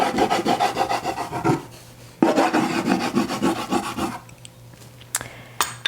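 Lump graphite drags across a cold wax and oil paint surface in rapid back-and-forth strokes, a close, dry, raspy scratching in rhythmic bursts with brief pauses between, ending with a few sharp taps.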